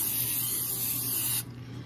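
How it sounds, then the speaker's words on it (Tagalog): Cooking oil is sprayed onto fish strips in an air fryer basket, a single close, steady hiss lasting over a second that then stops sharply. "Mag-spray ulit tayo ng cooking oil."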